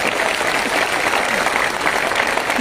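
An audience at an education expo speech in Aurangabad breaks into sustained applause, a thick, loud, continuous clatter of many hands that holds steady throughout, with faint voices mixed in.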